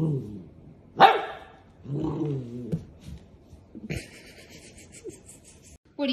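A dog gives a few short, fairly close barks and gruff growly vocalizations with quiet pauses between them.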